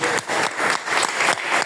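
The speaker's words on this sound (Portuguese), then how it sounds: "Dá uma salva de palmas para Jesus" Church congregation clapping in bursts during a Sunday worship service, several rhythmic waves of applause from a room full of people, fairly close and lively.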